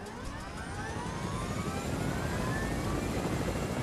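A helicopter drones steadily in the Fortnite video game, its engine and rotor hum loud and continuous with slowly shifting tonal whine, without talk.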